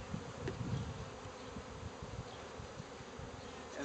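Honey bees are shaken into a pan during a sugar shake mite test, giving a dense, close, continuous buzzing hum with a few soft knocks and thuds underneath.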